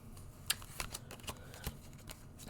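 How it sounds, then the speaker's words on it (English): Tarot cards being reshuffled after some fell, giving a run of crisp riffling clicks and soft flutters, close and moderately loud, with no talking. "So I have a bunch of cards that fell down. So we're going to have to reshuffle that."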